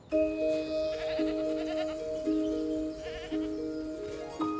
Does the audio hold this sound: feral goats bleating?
yes